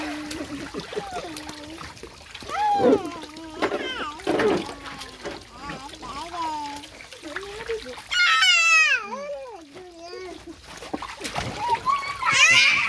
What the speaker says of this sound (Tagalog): Natalsikan siya ng tubig sa mukha.